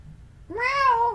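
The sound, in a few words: cat meowing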